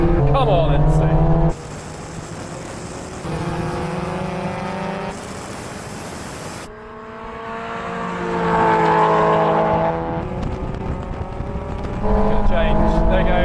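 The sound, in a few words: supercharged Mazda Roadster NC and NB drag racing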